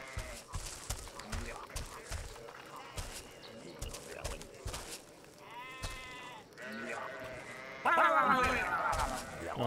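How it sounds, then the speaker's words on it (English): Rams bleat in the video game Overlord: Raising Hell, several wavering cries rising over busy game ambience and clattering footsteps, growing louder and overlapping toward the end. "Oh, there's just a bunch of rams, actually."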